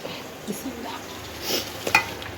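A Bengali curry of Malabar spinach, jackfruit seeds and potatoes cooks in a pan with a soft, steady sizzle, broken by a few stirring scrapes and one sharp utensil clink near the end.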